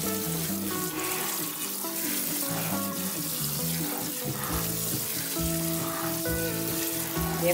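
Cold tap water pours steadily over freshly cooked spaghetti drained in a colander in a home kitchen, a continuous close splashing hiss with no pauses and no talk.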